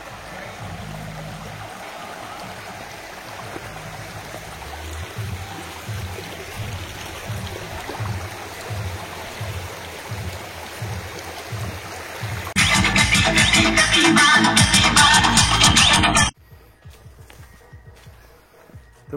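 Forest stream flowing over a path crossing near Machakandana waterfall in the Similipal jungle of Mayurbhanj: a steady rush of water that turns much louder for a few seconds near the end, then drops away.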